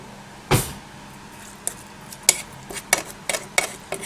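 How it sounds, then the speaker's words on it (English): Seasoned eggs with salt and pepper being stirred for an omelette, a string of light clinks and taps of utensil on bowl, one firmer knock first and then irregular quicker ticks, close and fairly quiet. "I am going to give it a quick stir"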